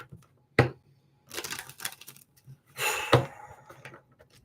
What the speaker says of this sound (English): one more shuffle after this, and we're going to cut the deck.